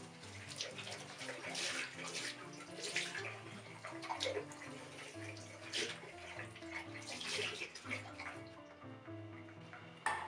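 Tap water runs steadily into a sink while a makeup eraser cloth is rinsed under it, a close, continuous splashing stream with shifting gurgles as the cloth moves, ending abruptly.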